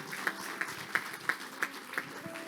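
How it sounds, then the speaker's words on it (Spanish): A church congregation claps in unison at a steady even beat, six crisp loud claps about a third of a second apart, with a faint murmur of voices underneath. "Démosle fuerte las palmas al Rey."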